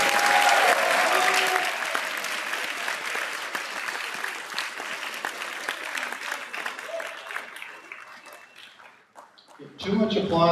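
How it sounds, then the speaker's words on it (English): Audience applause fills a school band concert hall after the percussion studio performs, loud and dense at first, then thinning and fading toward the end before a brief burst of other sound. "Let's give another round of applause for the percussion studio."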